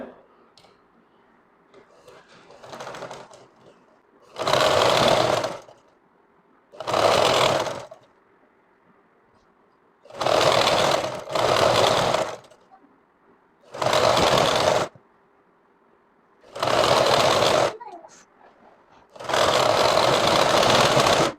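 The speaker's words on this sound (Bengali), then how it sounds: "এখন নিচে সেলাই দিয়ে দিবেন চিকুন করে চিকুন করে সবচেয়ে সুন্দর হবে" Sewing machine stitching a sharara-style salwar, running in about eight separate bursts of rapid, steady whirring and clattering, each a second or two long, with quiet pauses between.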